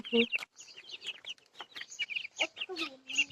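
Small chickens on a village farm cluck and peep in quick overlapping bursts nearby, with a faint voice briefly audible among them.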